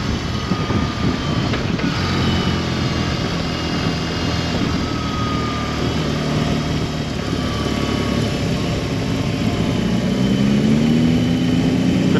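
A 2022 BMW R18B motorcycle engine runs steadily while riding, a continuous low rumble with wind noise that holds at an even level, rising slightly in pitch near the end.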